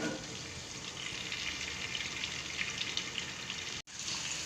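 Fish pieces fry in a covered pan over a low flame, a steady, even hiss and crackle that carries on without a break, close by with no one talking.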